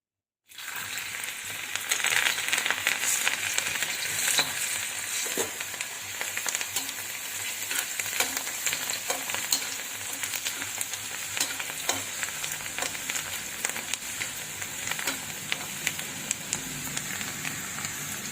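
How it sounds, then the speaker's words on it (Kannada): Chana dal (kadle bele) frying in hot oil, stirred continuously as a crunchy masala snack is made: a steady dense sizzle with scattered light scraping and rattling of the lentils, close and even throughout, no talking. "ಕೈಯಾಡ್ತಾನೇ ಇರಬೇಕು ಅವನ್ನ ಈ ರೀತಿ ಅಂದರೆ ಎಲ್ಲ ಕಡೆ ಚೆನ್ನಾಗಿ ಕರಿತಾವು"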